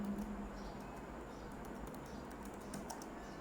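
Quiet keystrokes on a computer keyboard while C code is typed, short bursts of close clicking over a soft steady hum.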